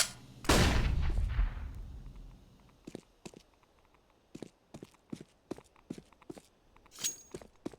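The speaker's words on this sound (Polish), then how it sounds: "I'm throwing a flashbang." A flashbang grenade in a video game bursts with one loud, close blast that rings out for about a second, followed by a scattered run of sharp clicks and taps.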